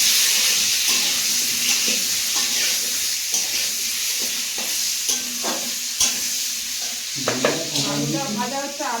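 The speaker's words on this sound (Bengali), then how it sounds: "আলুটা ভাজা হচ্ছে" Potatoes frying with salt and turmeric give a steady sizzle throughout, broken by scraping stirs and clinks of a utensil against the pan, with brief speech-like sounds near the end.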